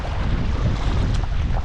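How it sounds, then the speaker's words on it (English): Strong gusting wind roars across a choppy lake, Lac de Gruyere, during a packrafting trip, a loud, steady rumble of wind buffeting the microphone with water sloshing beneath it and no talking. "it is very windy"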